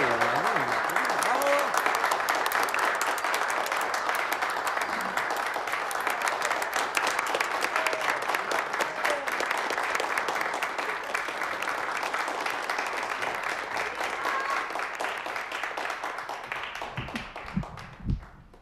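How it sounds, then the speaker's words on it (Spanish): A theatre audience applauds in a dense, steady wave of clapping that holds loud and even for most of the stretch, then thins and fades out near the end. "Un aplauso, un aplauso. Vamos, un aplauso."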